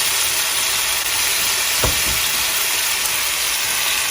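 A steak sizzles in a pan with a loud, steady hiss and crackle throughout, broken once by a brief low thump partway through; no one speaks.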